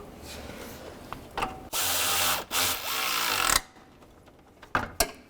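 A ratchet tightens the radiator bolts on a 2006-2011 Cadillac DTS. Close, loud grinding and clicking runs for about two seconds, followed by a few sharp metallic knocks.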